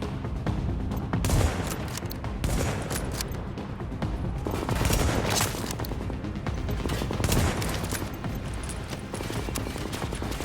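Rapid gunfire in The Division, bursts of automatic shots crackling continuously for the whole stretch, loud and close, with no voices.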